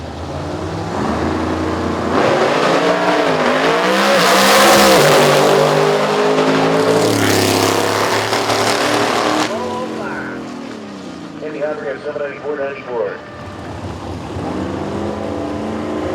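Race cars at a No Mercy 9 radial qualifying session roar past on the racetrack straight, engines revving loudly and rising and falling in pitch, while an announcer talks over the sound.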